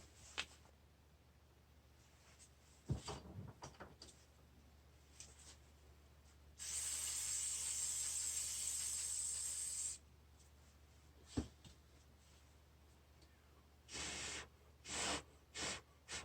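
Brake cleaner sprayed from an aerosol can: one sustained hiss of about three seconds in a quiet room, followed later by a few short, separate bursts.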